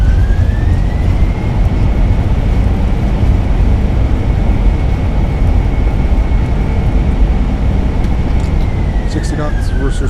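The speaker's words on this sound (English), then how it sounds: "Reversers out. Nose down gently." Jet thrust reversers roaring after landing in a flight simulator airliner arrival at Toronto, a loud, dense, steady engine roar with a faint rising and falling whine, continuous for the whole stretch.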